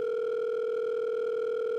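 A steady, unbroken telephone tone drones on a call to a helpline, heard alone without any voices.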